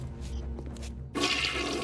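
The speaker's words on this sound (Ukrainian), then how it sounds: "Унітаз." A toilet flushes in the video game Bioshock Remastered, a sudden loud rush of water that starts after a quiet, dull stretch and carries on to the end.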